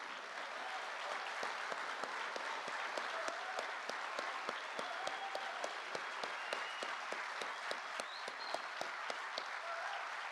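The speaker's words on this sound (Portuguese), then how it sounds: "eu peço uma salva de palmas para o nosso presidente Lula." Sustained applause from a crowd at a Brazilian public security event honoring President Lula, dense steady clapping across the whole stretch with scattered sharper claps and a faint voice or two underneath.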